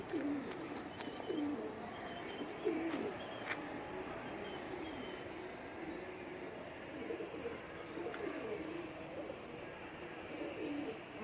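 Domestic pigeons of mixed breeds coo steadily in a loft, several soft low rolling calls repeating throughout over a constant background hum, with no talking.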